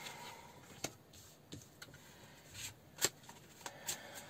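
A tarot card deck is shuffled close up in a quiet room, with soft riffling and a few sharper card snaps, and no talking.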